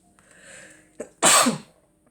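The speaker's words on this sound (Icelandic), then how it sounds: "Ég þurfti bara allt í einu rosalega mikið að hnerra." One sharp, loud sneeze from a person, preceded by a brief indrawn breath and a small catch, then quiet.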